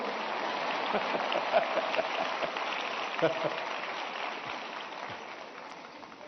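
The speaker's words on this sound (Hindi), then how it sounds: "ये आपकी पसंद की बात आई तो ताली बजाते हो आप लोग" A large audience claps in sustained applause at a Pariksha Pe Charcha exam discussion event with the Prime Minister, a dense, even roar of hands lasting several seconds with a faint voice underneath.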